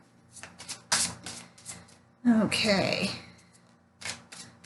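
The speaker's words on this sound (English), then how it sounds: "One more shuffle." Tarot cards being shuffled by hand, with several short bursts of riffling and tapping between moments of speech and a brief spoken word.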